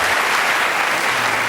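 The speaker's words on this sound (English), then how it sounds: "Give him an applause." Studio audience on a comedy panel show breaks into applause, a thick, even roar of clapping hands, loud and continuous with no pauses.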